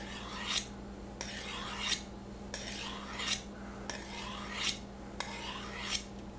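A dull kitchen knife drawn along a sharpener in five evenly spaced rasping strokes, each rising to a bright scrape at its end, close and clear with a low steady hum behind.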